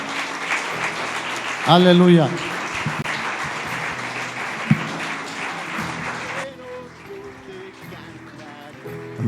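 A church congregation claps for the Lord while a voice calls out in praise and a sustained musical tone swells. The clapping fades after about six seconds into softer background sound.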